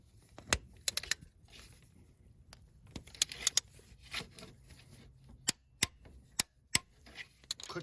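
A torque wrench clicks while glow plugs are tightened to 14 foot-pounds on a Ford 7.3 Powerstroke diesel. Sharp, isolated metallic clicks come at irregular intervals over a quiet workshop background.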